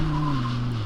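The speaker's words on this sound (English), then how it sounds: "let's have a brake test from 160 kilometers an hour, also known as 100 miles an hour" An Audi performance car brakes hard from 160 km/h, its tires letting out a loud, steady skid squeal for the whole moment with the engine droning beneath, close and alone without voices.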